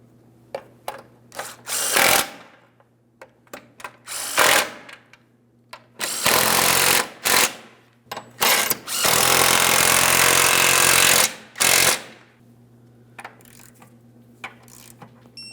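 Rear engine mount bolts on a 2003-2008 Toyota Matrix 1.8L L4 being tightened with a power tool, repeated loud whirring bursts of varying length, one long run in the middle, between light metallic clicks and handling.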